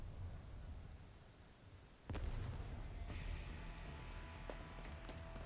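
An explosion in the Arknights video game bursts suddenly about two seconds in, a sharp boom followed by lingering rumble and a few smaller pops over a low background.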